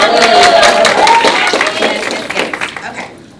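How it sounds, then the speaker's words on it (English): Applause from an audience at a bloggers' Q&A panel, a dense spread of clapping with some crowd noise and a voice over it, loud at first and thinning out toward the end. "Clap for everybody."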